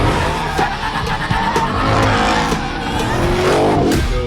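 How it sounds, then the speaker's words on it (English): Supercharged Hemi Ram Rumblebee SRT truck with 777 horsepower, a loud close engine roar with tire squeal and skidding, revving steadily throughout. "This is the supercharged Hemi Rumblebee SRT."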